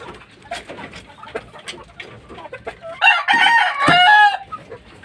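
A fighting gamecock clucks softly among scattered chatter of other fowl, then lets out a loud, drawn-out crow that rises and breaks near the end.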